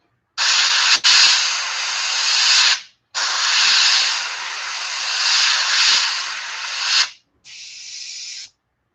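An airbrush hissing air without paint while a gizzard shad swimbait lure is worked on: three steady, loud, close bursts of breathy spray, the last one shorter, separated by brief silences, no voices.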